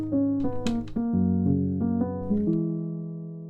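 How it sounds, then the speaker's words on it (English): A free soft piano plugin in FL Studio plays a gentle, mellow sequence of sustained chords and notes with a few brighter attacks, ending on a long decaying chord, with no talk. "This is the soft piano that they offer."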